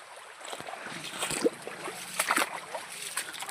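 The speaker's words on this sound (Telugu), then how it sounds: "వాటర్ ఫాల్ నిండేసి ఇవన్నీ నీళ్ళు ఇట్లా పోతున్నాయి" Water pouring from a full waterfall in the Palakonda hills near Kadapa, heard as a steady broadband rush with faint wind and scattered clicks, fairly distant and continuous.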